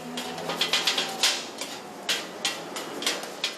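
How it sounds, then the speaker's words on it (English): Rapid metallic clanking and chopping of kottu roti on a hot griddle at a Sri Lankan street food stall, irregular bursts of clatter against a steady background hiss. "You hear that sound? That's the sound of koturoti,"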